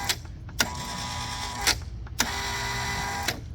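A Kustodian Plus bowling lane machine's squeegee motor driving up and down: a steady mechanical whine broken by four sharp clacks at uneven intervals, close and loud, with no voices.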